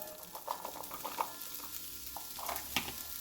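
Onion and ground beef sauteing in a pan for a casserole, a faint, soft sizzle with light scraping and occasional clicks of stirring, close but quiet, no talking.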